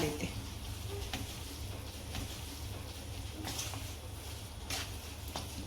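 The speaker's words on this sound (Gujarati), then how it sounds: "એને આપણે હવે બધું મિક્સ કરી નાખવાનું છે" Farali peanut and potato khichdi being stirred and mixed in a frying pan, a low steady sizzle with faint scattered scrapes and taps of the spoon throughout.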